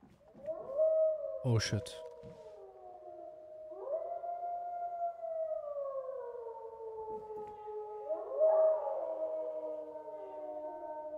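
Wolves howl in the snowy survival game DayZ, long rising and falling wails repeating like a siren over about ten seconds, with a brief sharp clatter and a man swearing near the start.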